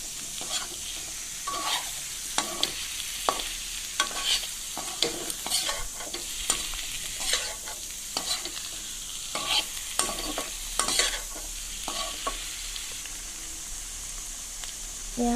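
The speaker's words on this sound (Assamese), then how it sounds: "ভালদৰে লৰাই থাকিম অলপ সময়ৰ কাৰণে।" Pieces of taro and potato fry in hot oil for a curry, with a steady sizzle broken by repeated scraping stirs of a spoon against the pan, close and moderately loud, no voices.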